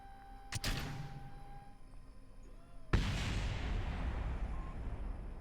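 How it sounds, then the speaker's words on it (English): Something blows up in Kerbal Space Program, video game: a sharp distant bang, then a second louder blast whose rumbling roar lingers and slowly fades. "I don't know what blew up. It sounded like something out over here."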